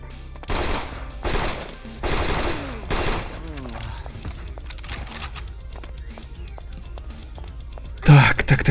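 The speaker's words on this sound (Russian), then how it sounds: "Какая-то уже скотина стреляет." Automatic gunfire in the video game Metro 2: Death of the Leader, several loud rapid bursts in the first few seconds, then quieter game sounds and a final sharp burst.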